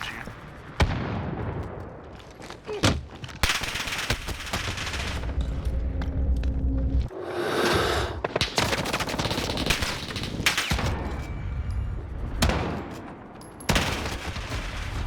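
An RPK machine gun fires in a video game in repeated loud bursts of rapid gunfire, with a few short pauses between volleys and a voice talking over the shooting.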